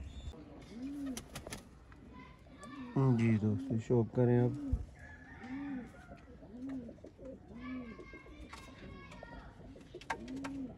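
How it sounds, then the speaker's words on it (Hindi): Soft, repeated coos from black-faced breeder pigeons sound at a steady rhythm throughout, while someone speaks over them partway through. "और प्योर काले मुंह वाली कबूतरी है ये"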